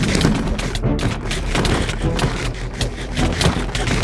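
Rapid bursts of Minecraft fireworks pop and thud in quick succession, dense overlapping crackles repeating throughout, loud and close.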